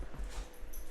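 A puppy gives a brief, faint whimper indoors, a soft, short whine over quiet room noise.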